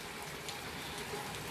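Steady rain falling on a stormy day, a continuous even hiss with no voices.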